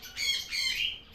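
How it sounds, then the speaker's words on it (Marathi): Two harsh parrot squawks in quick succession, close and fairly loud. "तर तुमकां पक्ष्यांचो आवाज येताच आसतलो"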